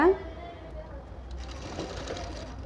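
Sewing machine stitching a blouse, a steady mechanical whir running through the clip after a brief louder knock at the start.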